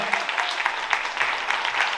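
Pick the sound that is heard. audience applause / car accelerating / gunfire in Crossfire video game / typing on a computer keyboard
audience applause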